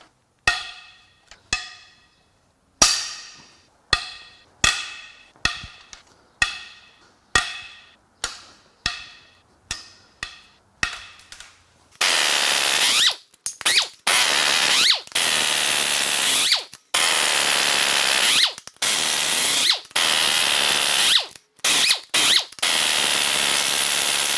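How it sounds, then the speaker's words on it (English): Head bolts on a GM 6.2 L87 V8 engine are broken loose with a power tool, starting as a series of about a dozen short sharp rattling bursts, then turning into longer continuous grinding runs with brief pauses, loud and close. "Now let's get the head bolts broken loose."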